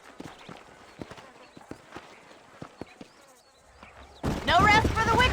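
Steady clip-clop of horse hooves in an uneven walking rhythm, moderately close, in Red Dead Redemption, before a sudden loud burst of noise near the end.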